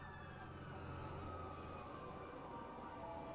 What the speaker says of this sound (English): Police sirens wailing.